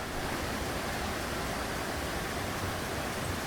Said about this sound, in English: the first thing that hit me was that beautiful medium pitch roar of the waterfall